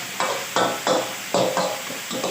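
Chinese kale and crispy pork stir-fried in a wok, with a quick series of about eight scraping, tossing strokes over a steady sizzle, close and moderately loud.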